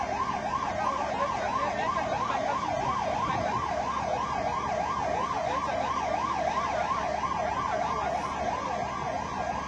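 A loud fire engine siren wails continuously at a building fire in Jogeshwari, rising and falling in a rapid, steady cycle over a low rumble of road traffic.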